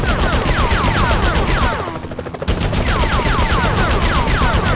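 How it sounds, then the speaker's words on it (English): Rapid bursts of automatic gunfire in the Spider-Man PS1 video game, loud and continuous, with a brief lull in the middle before the firing resumes at full intensity. "Enough with the shooting already!"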